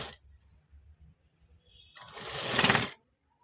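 A sewing machine stitching puff sleeves for a ready-made lehenga blouse, with soft low rhythmic pulses of a slow run followed by a louder, buzzing burst of fast stitching up close that stops abruptly.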